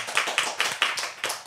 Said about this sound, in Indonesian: Kita pakai tepuk tangan yang biasa aja ya